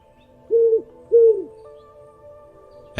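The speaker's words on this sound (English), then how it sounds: "A big brown owl flew gracefully through your window" A big brown owl gives two clear, resonant hoots in close succession over a quiet, faintly humming background, with a brief sharp knock at the very end.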